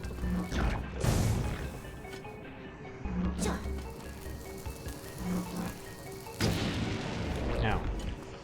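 Bombs explode in Zelda: Link's Awakening on Switch, three heavy booming blasts spaced a couple of seconds apart over steady game music.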